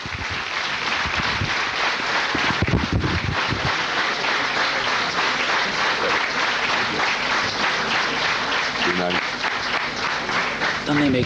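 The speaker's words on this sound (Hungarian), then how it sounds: "fogadjátok nagy szeretettel, nagy tapsal, Mihály Strahovec urat!" Audience applause welcoming Michael Strachowitz at an event in Budapest, dense sustained clapping from a crowd lasting throughout, loud and close, with some voices mixed in.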